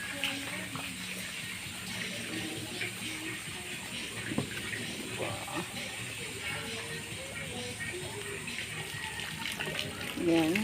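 Small waterfall about four feet high splashing into a pool at an outdoor swimming spot, a steady watery rush underneath, with people's voices chatting and calling over it nearby.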